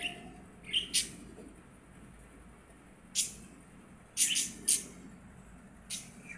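A family of pet budgerigars gives short, bright chirps and tweets in scattered bursts, several close together, over a quiet room background.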